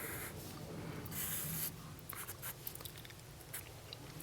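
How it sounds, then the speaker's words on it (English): A small graph is drawn by hand, giving a steady, faint scratch of pen or pencil on paper that turns into short, separate strokes partway through. "we can draw a little graph"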